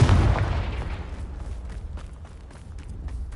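A Confringo explosion spell goes off in Hogwarts Legacy, a loud booming blast at the start that decays into a rumbling tail with scattered crackles.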